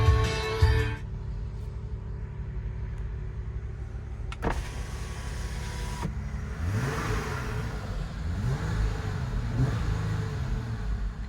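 A 2020 Jeep Wrangler Unlimited Sport V6 engine starts with a sharp catch, settles into a steady idle, then revs up and down in several rising and falling swells, close and loud.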